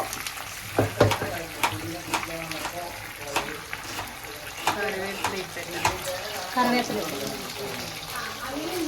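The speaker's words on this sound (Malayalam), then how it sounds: "ഇനി ഇതിനെ അങ്ങ് പൊരിച്ചെടുത്താൽ മതി പൊരിച്ചെടുത്താൽ മതി പൊരിക്കാൻ വെച്ചു" Chicken frying in oil for a Ramadan iftar meal crackles and hisses close by, with spoon clinks and scrapes against the pan and a voice talking over it.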